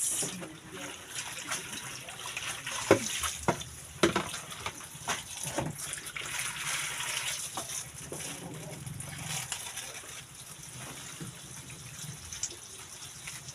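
Water sloshing and splashing as fabric is scrubbed and squeezed by hand, with irregular wet slaps and a soft voice in the background.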